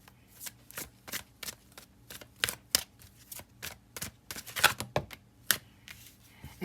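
Tarot cards shuffled by hand in a quiet room during a reading, a rapid run of crisp riffling slaps and flicks in irregular bursts, close and alone with no talk.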